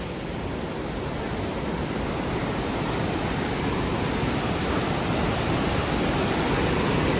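A mountain river rushes below a bridge on the Hemkund Sahib trek, a loud, unbroken roar of whitewater that swells slightly and never lets up, with no talking.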